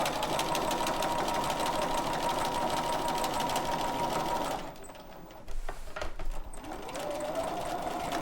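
A sewing machine stitches straight quilting lines on a quilt-as-you-go block, a fast steady whirring chatter that stops briefly for a few clicks and handling noises, then resumes.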